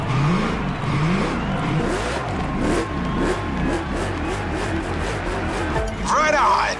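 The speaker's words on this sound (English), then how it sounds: "Drag racing time" Car engine revving hard through a drag race in the video game The Crew Motorfest, loud repeated rising and falling revs as gears shift, with a brief high squeal near the end.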